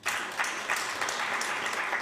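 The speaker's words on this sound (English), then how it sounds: "A round of applause, please." Audience at the Bank of Namibia 2020 annual report launch breaks into steady applause, a dense wash of clapping that holds evenly for about two seconds with no talk over it.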